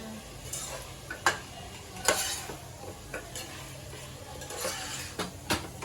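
Onion-paste masala fries in a pan while a spoon scrapes and clinks against the metal in irregular strokes, with some sharper knocks over a steady sizzle.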